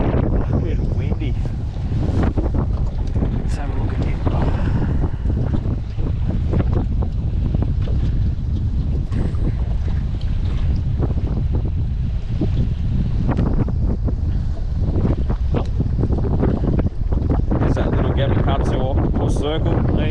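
Strong wind at Cooby Dam buffets the microphone with constant roaring gusts. Water laps nearby, and someone speaks briefly under the noise.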